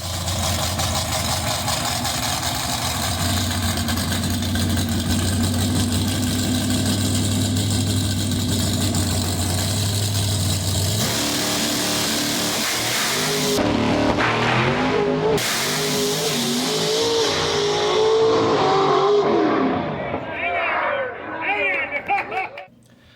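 A drag racing car idles steadily with a deep, even rumble at Kuhnle Motorsports Park, then launches down the track. The engine roars into a loud, rising, sweeping run that fades into the distance, with crowd noise in the background.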